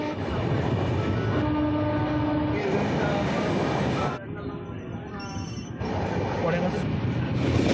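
A moving train, the Howrah Mumbai Mail, rumbles loudly past Dasnagar with steady rail roar, rattling carriages and a passing horn-like tone, heard from on board, with a voice talking over it.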